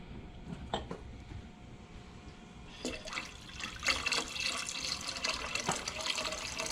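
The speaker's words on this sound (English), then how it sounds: "I got a little bit more water over here." Water runs and splashes steadily into a pot, with occasional clinks and knocks, growing louder partway through.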